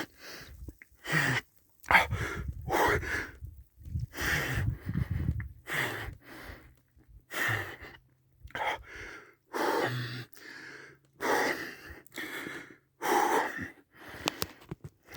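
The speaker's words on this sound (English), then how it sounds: "get your breathing under control." Someone sitting in 32-degree water takes heavy, gasping breaths in a rough, uneven rhythm. The breaths are loud and close and continue throughout with no speech.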